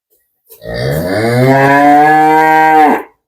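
A Friesian dairy cow gives one long, loud, close moo lasting about two and a half seconds, rising then holding steady before cutting off, alone with no talk.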